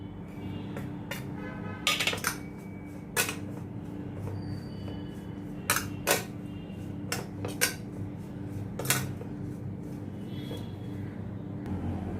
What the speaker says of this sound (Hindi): अभी इन सभी मसालों को मैंने अच्छी तरह से मिक्स कर दिया है।